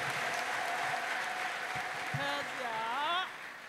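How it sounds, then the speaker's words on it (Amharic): A congregation at a church service claps together in a dense, sustained round of applause, with a voice speaking over it near the end as the clapping fades. "እስቲ አጨብጭቡ ባካችሁ ለዚህ አባት"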